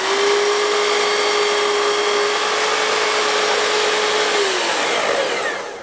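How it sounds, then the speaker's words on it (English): A power saw trims the end off a piece of wood for a coffee table end panel, a loud steady whining drone held for several seconds before spinning down, close and alone with no talking. "So I'll start by taking the piece that we marked and we'll cut off one end"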